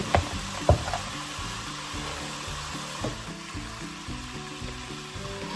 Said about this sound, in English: I want these vegetables to simmer and start getting a little bit tender.